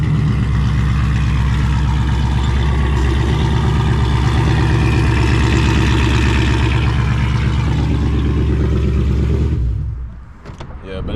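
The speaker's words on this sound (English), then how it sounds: "I want to give you guys a little cold start. Well, it's not a cold start because I've been driving this all morning, but it's still loud." A Dodge Charger Scat Pack with a check-engine light on idles loudly up close, a deep, throbbing rumble that holds steady for about nine seconds before cutting off abruptly, followed by faint handling noise.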